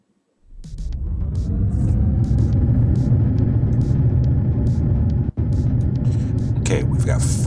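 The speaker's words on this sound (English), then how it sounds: "we've got full power ignition" Rocket engine ignition in Kerbal Space Program: a sudden loud, deep roaring rumble rises after a brief quiet and holds steady for several seconds, with one momentary dropout, while short bursts of voice sit over it.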